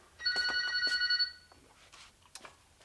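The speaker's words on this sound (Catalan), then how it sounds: "És el telèfon." A telephone bell rings in a kitchen in a Catalan sitcom, giving a steady electronic trill for about a second. A few short clatters and thuds follow.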